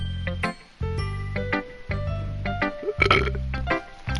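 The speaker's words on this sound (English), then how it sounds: "That burp sounded like when you have nothing left in the drink, but you're still trying to sip it through the straw" A loud, gurgling burp in the DDLC game, drawn out like the last sips of a drink pulled through a straw, sounding over steady background music.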